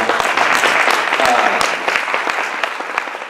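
An audience at a Democratic candidates' meet-and-greet gives the panelists a hand, loud close-up clapping with individual sharp claps standing out over a continuous patter, running the whole time.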